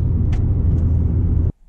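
Car interior road rumble while driving, a steady low droning hum with faint clicks that cuts off abruptly.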